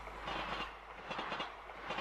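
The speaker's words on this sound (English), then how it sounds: "The train was a single carriage, one of those services that shunts back and forth between local stops." A single-carriage local train shuttling between stops runs on its rails in a radio-drama scene, giving a continuous mid-level rumble with rhythmic clickety-clack from the wheels and no voices.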